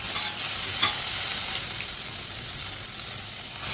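Small spice-coated egg pieces sizzle and are stirred in a hot pan for an egg and bottle gourd curry. Steady frying hiss with scraping stirs, close and continuous, with no talking.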